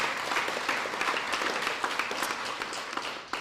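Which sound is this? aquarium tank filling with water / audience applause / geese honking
audience applause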